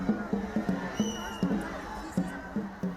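A crowd on Stanley Main Beach cheers at a dragon boat race, with a rhythmic series of beats and shouts rising and falling through a loud outdoor din.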